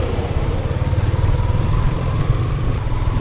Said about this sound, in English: The only disturbance is the noise that this motorbike makes,